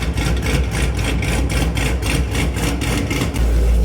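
A Cadillac CT5-V Blackwing V8 runs on a dyno with E85 fuel, a loud, close, rough rumbling idle with a steady pulsing beat and no talk.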